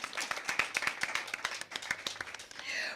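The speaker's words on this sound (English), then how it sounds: "Come on, give her a round of applause." Audience applause for the timekeeper at a school debate competition, a dense run of sharp hand claps from a modest crowd lasting about three seconds and holding steady to the end.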